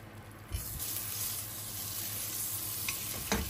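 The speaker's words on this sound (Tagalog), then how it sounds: "Maglagay tayo dito ng 3 tablespoon ng butter." Three tablespoons of butter drop into a hot pan and begin to melt and fry, starting a steady close sizzle that holds without a break, with a couple of faint utensil taps near the end and no talking.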